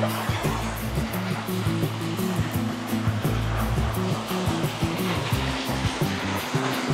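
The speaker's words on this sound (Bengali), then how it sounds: "আর এই যে ঝিরিপথের শব্দ, পানি প্রবাহিত হওয়ার শব্দ" A hill stream on a rocky jhiri path in Rangamati, a steady broadband rush of flowing water, loud and continuous with a low droning undertone.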